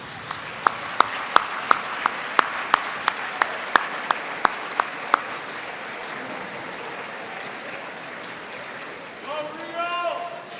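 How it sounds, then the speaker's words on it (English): Graduation ceremony audience at a 2019 kinesiology commencement, with about a dozen sharp, evenly spaced claps up close over a steady wash of crowd applause that fades into a low murmur. "Graduates, please stand and give your family, friends, and our faculty and staff a round of applause."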